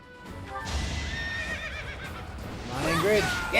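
A horse in the Fire Emblem: Three Houses video game lets out a clear, drawn-out whinny, followed by a second, brighter neigh near the end, over a soft bed of game sound.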